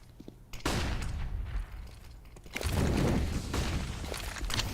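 Rapid bursts of automatic gunfire from Mac 10 and M4 weapons in a competitive Counter-Strike match, two loud clusters of dense shots with quieter gaps between, no talk.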